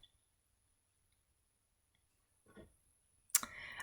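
Computer mouse clicks in a near-silent room, with a faint soft click followed by a sharper, louder click and brief rustle at the end.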